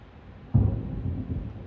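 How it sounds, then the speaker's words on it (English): A low, deep rumble of thunder rolls in suddenly and lingers, distant and muffled, with no voices. "Oh, I hear thunder out there."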